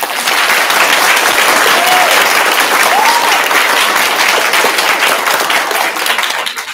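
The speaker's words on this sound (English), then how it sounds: "Please join me in giving her a round of applause." An audience at a Pontiac D.A.R.E. graduation applauds Deputy Salmon, the loud, dense clapping sustained evenly for several seconds before tapering at the end.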